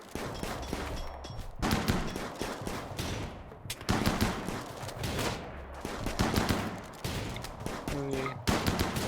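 Video game gunfire in Rimworld during a colony battle: rapid, repeated shots in bursts with brief gaps, fairly steady and moderately loud throughout.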